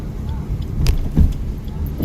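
A car in second gear during a driving lesson, its low engine rumble steady and close, with a couple of soft clunks from the cabin and a voice speaking now and then.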